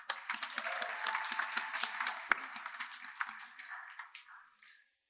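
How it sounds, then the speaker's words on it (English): Audience applause at a library branch grand re-opening, steady clapping from a modest crowd lasting several seconds before thinning out and stopping. "So I think you deserve a round of applause."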